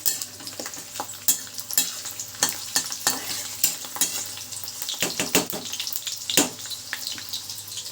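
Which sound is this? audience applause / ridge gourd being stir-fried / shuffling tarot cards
ridge gourd being stir-fried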